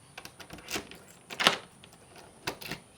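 A Eufy Smart Lock E330 unlocked with its physical key: a few faint, sharp metallic clicks and scrapes of the key and latch turning, spaced over a few seconds in a quiet room.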